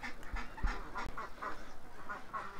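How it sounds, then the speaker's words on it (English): A flock of ducks quacks repeatedly in a loud, close chorus of overlapping nasal calls with a few low thumps. "This many ducks still up here."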